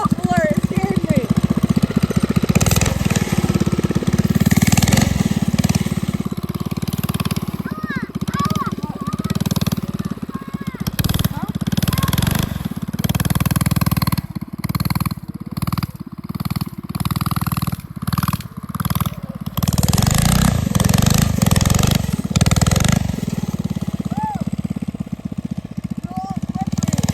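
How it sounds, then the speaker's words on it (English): Small mini bike engine running and revving in snow, a loud, close, buzzing drone that rises and dips throughout, with people talking and shouting over it. "You're supposed to ride the mini bike when you're sitting on it, not walking."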